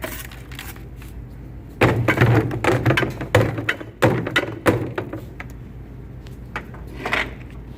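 Brushing out the metal chip pan of a pipe threading machine produces irregular knocks, scrapes and clattering taps in uneven bursts, fairly close, with quieter stretches between them.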